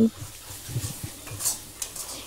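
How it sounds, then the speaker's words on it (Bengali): A spoon scrapes and clinks as spiced tomato masala with whisked yogurt is stirred in a pan over a medium flame for jackfruit kaliya. Soft scrapes repeat, with a faint sizzle underneath and occasional louder knocks against the metal. "এবার আবার এটাকে আমি কষিয়ে নিচ্ছি যতক্ষণ না টমেটোর কাঁচা গন্ধটা চলে যায়।"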